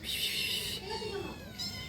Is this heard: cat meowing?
yes